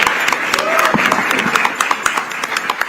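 Audience applause for the 50th anniversary of Sholay at an awards ceremony, a dense burst of clapping and cheering from a large crowd that holds steady through the moment, with a voice briefly rising over it.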